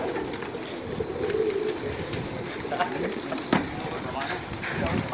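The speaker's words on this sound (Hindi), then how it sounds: "सब नए कबूतर हैं।" Pigeons cooing softly in low, rolling calls amid a busy background, with people chatting nearby and occasional knocks.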